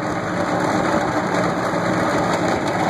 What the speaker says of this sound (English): That's the noise of the blade rattling there on the collar.